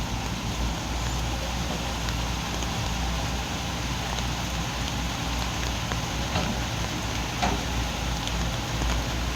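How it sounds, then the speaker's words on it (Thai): Steady, dense rain patter fills a construction site where excavators work, a constant broadband hiss with low rumble beneath, occasional sharper drips standing out. "ทำงานกลางสายฝนครับ"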